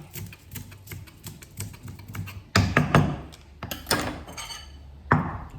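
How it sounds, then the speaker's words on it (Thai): Sharp knife taps on a cutting board while chopping green onions, a quick steady run of chops followed by a few louder, heavier strikes, close by with no talking. "หั่นต้นหอม"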